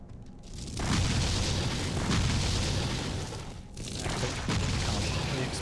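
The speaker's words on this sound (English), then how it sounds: "Constantly exploding" Explosions from the video game Torchlight roar in a dense, continuous stream of booming blasts, loud and rumbling, with a brief dip before another wave of detonations.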